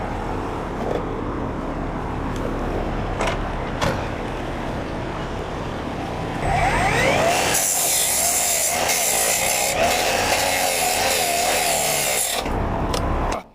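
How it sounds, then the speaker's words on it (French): A hand saw rasps through a tire beside a crashed truck, starting with scattered knocks and scraping, then settling into a loud, sustained back-and-forth cutting stroke that runs for several seconds before stopping abruptly. "Bon, laisse-moi prendre ma scie. On va faire ça."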